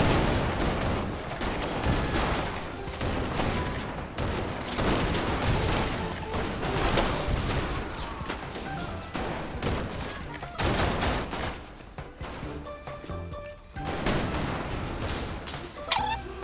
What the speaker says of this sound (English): Ow, what the heck? Where am I being shot from?